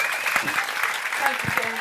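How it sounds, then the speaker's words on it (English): Audience applauding the cast of The Hobbit at an interview event, a steady wash of clapping filling the whole stretch, with a voice briefly audible under it. "A huge round of applause, please."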